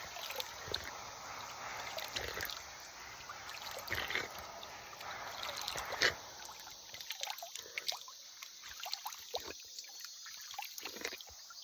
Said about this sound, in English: So all year round, this water is in motion. This water is moving.